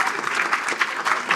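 Audience applause at a Students' Union meeting, a steady wash of many hands clapping throughout with no voices over it.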